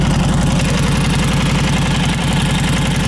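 A vintage motorcycle with a 6-volt charging system idles loudly and steadily up close, its engine rumbling without a break and with no talking over it.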